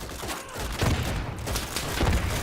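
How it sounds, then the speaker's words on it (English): Loud, dense gunfire and booming grenade blasts from the World War II shooter game Easy Red 2 roll on continuously with no letup, close and heavy. "Use one of those grenades."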